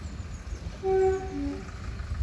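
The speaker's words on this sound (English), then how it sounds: "it was sounding its horn. There is a train coming." Train horn sounds at a footpath crossing as a train approaches: one steady, fairly loud blast lasting a few tenths of a second, then a shorter, lower-pitched note, over faint outdoor rumble.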